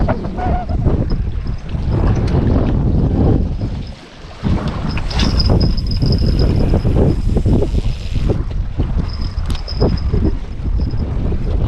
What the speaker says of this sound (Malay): Angin pun makin kuat dah ni.